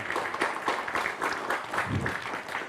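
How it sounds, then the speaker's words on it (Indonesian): An audience applauds at a televised Indonesian debate show on a legal case over a diploma, steady clapping filling the room for a few seconds with a brief low voice murmur midway. "Tepuk tangan boleh?"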